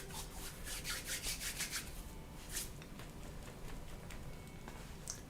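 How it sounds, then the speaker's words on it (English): Hands rubbed together during a gentle warm-up stretching routine, a soft, steady dry swishing friction that pulses in short strokes, quiet and close with no talking. "Give the hands a bit of a rub."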